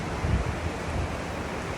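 Ticonic Falls, the first drop on the Kennebec River in Waterville, gives off a steady broadband roar of falling water that holds even and continuous throughout, with no voices over it.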